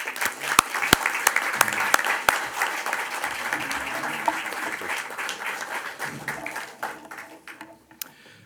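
An audience applauds at an annual general meeting as a minister is welcomed to the stage: dense, steady clapping that builds, holds for several seconds with a few sharp near claps, then thins and fades toward the end.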